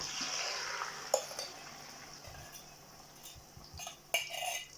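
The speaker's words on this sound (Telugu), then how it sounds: "టమాటా గ్రేవీని ఈ విధంగా వేసుకొని కలుపుకుంటూ ఉన్నాము." Tomato gravy being stirred into rice in a pot, heard as faint soft scraping and a few light clinks of a spoon against the metal, with a quiet background hiss and no talking.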